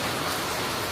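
Steady rain falls outdoors, a dense even hiss filling the moment without voices.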